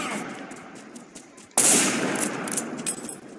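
Automatic gunfire bursts out in the shooter game Line of Sight, softer rattling shots giving way to a sudden loud, close volley of rapid fire that continues in short bursts.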